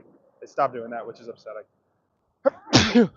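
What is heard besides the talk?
sneeze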